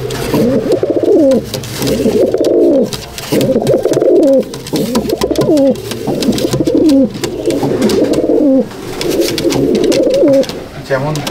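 Madrasi Kalduma pigeons, a breeding pair kept in a loft in Howrah, coo in repeated rhythmic bursts of low, throaty, rolling calls, loud and close throughout.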